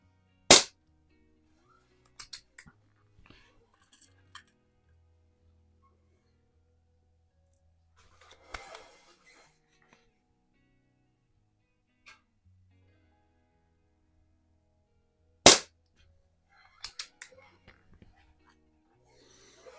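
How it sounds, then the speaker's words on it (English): Air rifle shooting a five-shot group with Crosman Premier hollow point pellets: two sharp, loud isolated cracks several seconds apart, separated by near-silent stretches with faint handling noises and soft whispered talk. "I'm going to shoot a 5-shot group with the old ones first"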